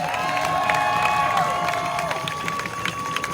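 A crowd at a protest rally cheers and shouts steadily, with whistles or sirens cutting through the sustained roar.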